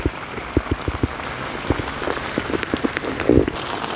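Heavy monsoon rain in the Konkan pours steadily, with close drops spattering and tapping hard on a surface in an uneven patter.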